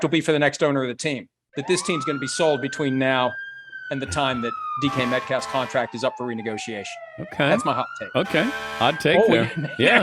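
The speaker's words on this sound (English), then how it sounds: "As long as that's the fire truck and not the police car" A fire truck siren wails in long rising and falling sweeps, moderately loud, running beneath nearly continuous conversation between several men, with a brief silent gap early on.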